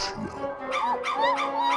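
A dog whimpers and yips up close in a short run of high, wavering cries, three or four squeaky whines in quick succession.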